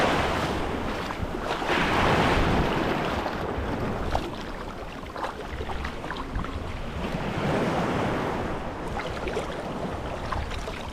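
Sea waves wash steadily onto the shore near Davao City, a continuous broadband surf roar swelling and easing, with wind buffeting the microphone throughout.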